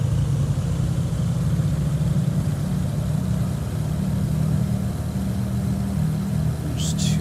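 Beechcraft Baron B58 twin piston engines in a flight simulator held at a steady, loud run-up drone, a continuous low throbbing hum that persists throughout with little change in pitch.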